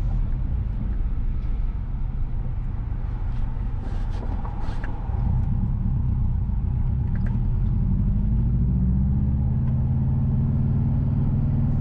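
A car drives east along Arbor Street in Port Royal, Jamaica, its steady low engine and road rumble filling the scene continuously and fairly loud, with no voices.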